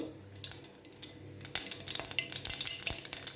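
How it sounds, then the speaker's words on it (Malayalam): Mustard seeds spluttering in hot oil for a carrot and vegetable stir-fry: irregular sharp pops and crackles with scattered metallic clinks, denser toward the end, close and moderately loud with no talking. "എണ്ണ ചൂടായി കടുകിട്ട് കൊടുത്തു"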